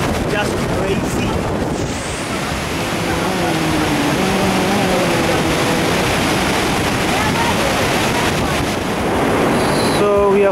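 Iguazu Falls roaring at the Devil's Throat on the Argentine side, a dense, steady wash of falling water with wind buffeting the microphone throughout.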